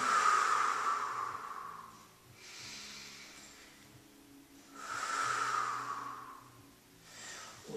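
Two slow, deep breaths during a Pilates session, each a loud, airy rush through the nose with a softer breath after it, close and clear with no talking.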